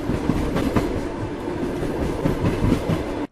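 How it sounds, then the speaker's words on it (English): A steady train rumble with rhythmic clickety-clack of wheels over rail joints, loud and continuous, cutting off abruptly at the end. "What sells the illusion is the sound effect of the train."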